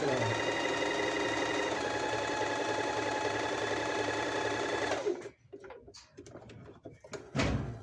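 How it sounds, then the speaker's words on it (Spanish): A Panavox 11c sewing machine stitching steadily alongside an earlier seam, a loud continuous mechanical whir for about five seconds that stops abruptly, followed by quieter handling noises. "Seguimos cosiendo al costado de donde cosí."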